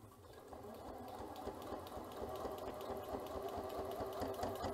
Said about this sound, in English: So we'll go forwards and then press the back stitch button so that we do a back stitch, and then sew